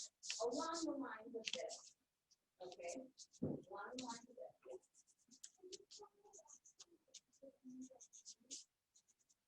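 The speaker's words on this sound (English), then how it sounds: "I always like to sketch very lightly to begin with." Pencil lightly sketching a sunflower on paper, a soft scratchy scribble in short strokes that carries on after a voice speaks over the first few seconds, close and quiet.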